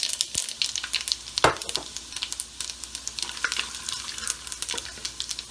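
Chilies crackle and sizzle in hot oil as a tempering for moong dal khichdi, with a close, continuous frying hiss and stirring scrapes and no talking.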